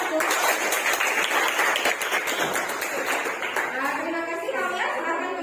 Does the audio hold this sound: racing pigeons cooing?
no